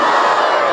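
A large crowd at a religious gathering roars a slogan reply in unison, one loud, sustained shout filling the whole brief moment.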